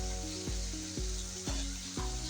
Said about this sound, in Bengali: এখন আমি এখানে মাছগুলো অ্যাড করে দেবো। তো দিয়ে দিচ্ছি শিং মাছগুলো